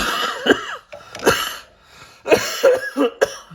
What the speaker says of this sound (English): These coughs just seem to be hanging on and on and on.